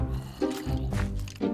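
Water in a Minecraft-style video game: watery sloshing and gurgling with a few soft drip-like splashes, fairly close and steady over a short stretch.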